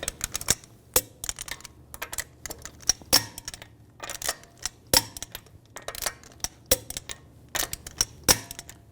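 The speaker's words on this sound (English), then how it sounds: "Now we're going to torque the lug bolts to 98 foot-pounds in a cross pattern to tighten the wheel down evenly." Sharp metallic clicks ring out in an irregular series as a torque wrench tightens the lug bolts on a 2006-2010 BMW 550i front wheel, with close, crisp ratchet ticks and brief pauses between them, no voices.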